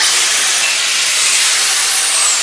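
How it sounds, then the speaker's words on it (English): Abrasive rubbing strips paint from a Classic Mini van body panel ahead of welding, making a steady, loud, close hiss that grinds on without a break. "I'm just going to go and take off some of the paint so that I've got good spots to weld onto"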